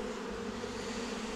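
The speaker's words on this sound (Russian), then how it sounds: "А эта пчела, она должна все равно разлететься." Bees hum at an apiary in a continuous, even drone, soft and somewhat distant, with no one speaking.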